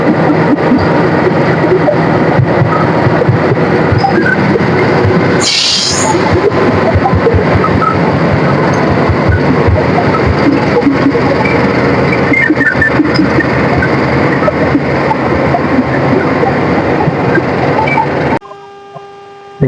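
A Kutojaya Selatan train's engine rumbles steadily at close range for a long stretch while departing an Indonesian station, with a brief hissing burst partway through, before the noise abruptly stops.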